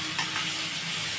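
Sliced onion sizzling in hot oil alongside two fried bay leaves for a cauliflower and prawn curry, a steady bright crackling hiss without pause, close to the pan and moderately loud, with no one speaking.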